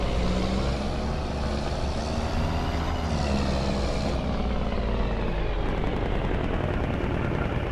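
A Peterbilt logging truck engine brake, a loud, close, continuous throaty diesel rumble and rattle that holds steady, then drops in pitch and fades partway through as the braking ends.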